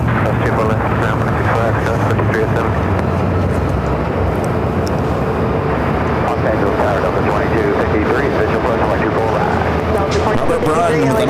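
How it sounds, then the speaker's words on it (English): Airbus A380 jet taking off from the north side at LAX, a steady loud roar throughout, heard under radio chatter and a talking voice. "A380 Super, now heading up for a north side takeoff"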